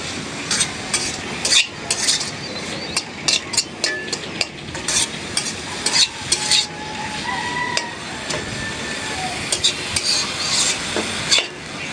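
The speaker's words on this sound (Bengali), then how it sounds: "মাছটা আবার একটু তেল ভালো করে শুকনো শুকনো করে ভেজে নিতেছি" Fish frying dry in hot oil, a dense crackling sizzle close up with frequent scraping strokes and taps of a spatula against the pan throughout.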